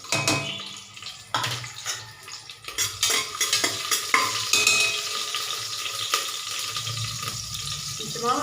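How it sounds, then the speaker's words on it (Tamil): Green chillies and fennel seeds hit hot oil in a pan, crackling and spitting with sharp pops and a busy sizzle, punctuated by stirring clatter, close and moderately loud. "ஆயில் விட்டாச்சு ஒரு ரெண்டு மூணு பச்சை மிளகா கொஞ்சம் சோம்பு போட்டுக்கலாம்"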